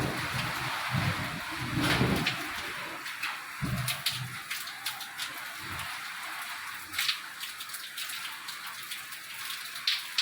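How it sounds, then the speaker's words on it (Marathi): Rain and hail fall steadily with a hissing wash, scattered louder drips and splashes popping through. "पाऊस तर इतका सुरू आहे"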